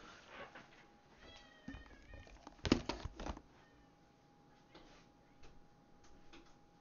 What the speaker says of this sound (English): hold on a sec, my cat's pissing me off.